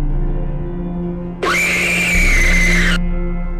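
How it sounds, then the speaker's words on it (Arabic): A person screaming as if in pain, one sustained, loud cry of about a second and a half rising out of a steady low background hum. "كانوا يسمعون أصوات غريبة كشخص يتألم"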